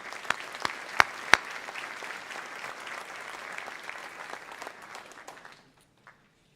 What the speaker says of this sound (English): That support is certainly worthy of one additional round of applause